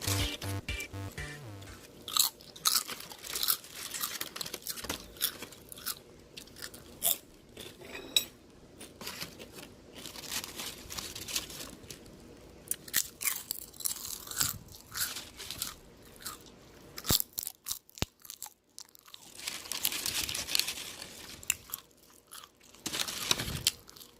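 Crunchy fried dried pollock skin is bitten and chewed up close, giving repeated brittle crackles and crunches in an irregular rhythm, with a few light clinks of cutlery or dishes and no talking.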